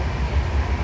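A train rumbles steadily along the track on a passenger rail journey between Erode and Coimbatore, a loud, continuous low roar with no voices.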